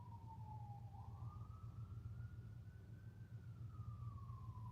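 Distant police sirens wail faintly outdoors, one long rising and falling tone sweeping slowly up and back down over a low steady rumble.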